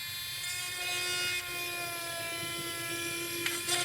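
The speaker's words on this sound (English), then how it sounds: "So just grab yourself a drill" A small drill whirs steadily at a high pitch for several seconds, close up, boring a hole in resin, with slight changes in tone as it bores.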